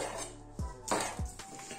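A knife slices kielbasa sausage into half-slices on a board, a few distinct close knocks and scrapes with clattering kitchen ware, no talking.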